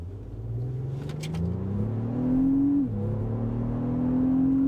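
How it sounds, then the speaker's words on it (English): Engine rumble of a 2025 Lexus GX550 SUV rising steadily in pitch as it accelerates from a stop, with a brief gear shift drop before climbing again; heard from inside. "I like the sound of the engine."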